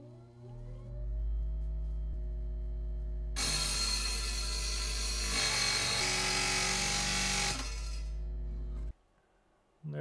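A powered faceting trim saw cuts a lab-grown bi-color sapphire, its steady whine rising sharply for about five seconds of cutting, then stopping abruptly, with the motor hum running underneath throughout.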